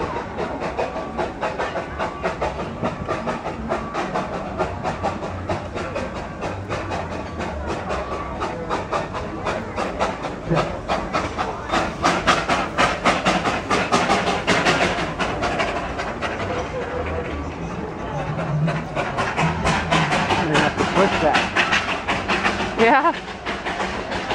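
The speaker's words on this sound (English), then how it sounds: "And there goes the train" A train rumbles and clatters past with rapid rhythmic clicking, swelling louder midway, while people talk faintly nearby.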